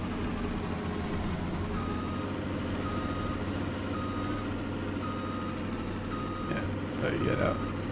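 Truck in Farming Simulator 19 runs with a steady engine drone, repeating reversing beeps sounding at an even pace over it and a brief louder burst near the end.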